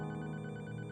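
A telephone ringtone sounds in a single brief, steady electronic tone with buzzing harmonics, faint and heard alone in a true-crime story setting.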